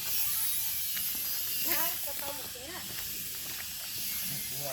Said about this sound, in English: these are insects that live in the trees. Thousands and thousands of these insects make the same noise at the same time.